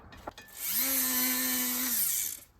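A rotary tool with a carving bit grinds against steel wedges in an old hammer head, a shrill buzzing whine rising after a faint tap, holding steady for over a second before tapering off.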